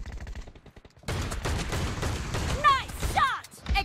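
Gunfire in a shooter video game match, a quick volley of rapid shots followed by a dense stretch of loud firing with bright whistling ricochet-like tones, and game voices mixed in.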